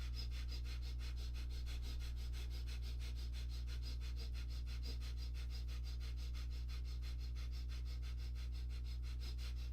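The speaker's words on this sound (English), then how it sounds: "Hands up, breath of fire." Rapid, rhythmic breath-of-fire breathing during a guided exercise, a steady run of quick sharp sniffing exhalations pulsing evenly throughout over a constant low hum, with no talking.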